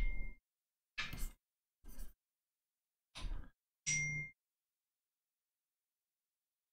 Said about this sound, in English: Phone's bleeping away, sorry about that.